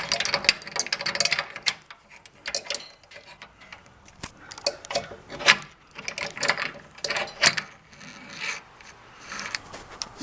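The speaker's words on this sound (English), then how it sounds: "Take off the washers." Metal washers being slid off the pulleys of a Racor PHL-1R ceiling hoist during installation: a busy run of small clinks, scrapes and rasping metal contacts, close and fairly loud, with no talking.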